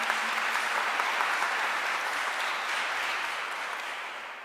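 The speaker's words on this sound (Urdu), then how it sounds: "خدا کی ذات کے لیے بھی زوردار تالیاں بجائیں" A church congregation at an Urdu-language Christmas service claps loudly and steadily, a dense wash of applause filling the hall without a break.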